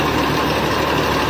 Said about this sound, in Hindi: भाई ट्रैक्टर चालू हो चुकी है, मशीन चालू होना बाकी है